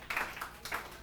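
A few students in a classroom clap in brief scattered bursts, sparse and uneven, at moderate volume with some room echo and no talking.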